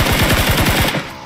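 Gunfire in the video game PUBG Mobile: a rapid burst of about nine loud automatic shots lasting under a second, followed by a brief fading tail.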